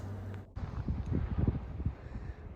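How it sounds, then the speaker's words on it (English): Gusty wind on an exposed desert climb of the Pacific Crest Trail among Joshua trees near a wind farm, buffeting the microphone in low rumbling bursts that swell and fade, close and fairly loud, with no speech. "it's crazy windy."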